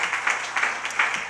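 Audience applause after a tribute at a public gathering, a short burst of scattered clapping with uneven swells, moderately close and with no talk over it.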